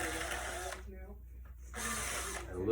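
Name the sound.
drill removing old caning from chair holes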